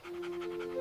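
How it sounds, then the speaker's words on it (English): A dog panting rapidly in a quick, even rhythm of short breaths, close and fairly faint, with a thin steady tone in the background. "This is a dog."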